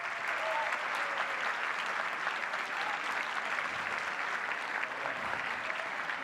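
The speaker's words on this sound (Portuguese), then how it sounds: "Vamos aplaudir." An audience claps steadily for young candidates at a panel event on entrepreneurship, a dense, moderately distant round of applause that holds evenly throughout.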